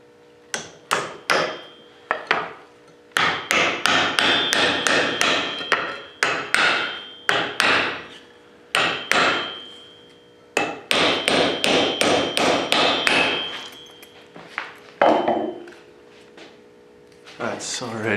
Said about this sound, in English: I'll use my brand new freaking fixed hammer.